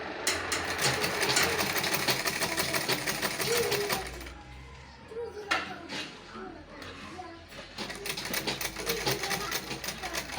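A Butterfly manual sewing machine stitches a ladies handbag with rhythmic clattering needle and treadle noise, a brief slowdown midway, and a voice talking over the steady mechanical running.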